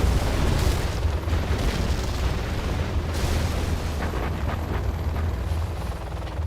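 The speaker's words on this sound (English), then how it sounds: "Artillery from Marakar." Artillery fire in the C&C Generals Zero Hour video game during a competitive match, a dense continuous rumble of heavy booms and blasts, loud and sustained with no pauses.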